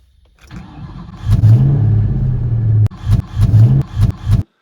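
A 2003 Ford Mustang Mach 1 engine cranks and catches, running roughly before revving in short bursts; a brief grinding crunch comes from the faulty starter near the end of the start.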